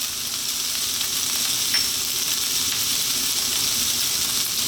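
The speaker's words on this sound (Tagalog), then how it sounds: "nagisa natin yung ating minced chicken ng mga 4 minutes" Minced chicken sautés in a hot pan, giving a steady, close sizzle and crackle of frying with faint stirring, no voices over it.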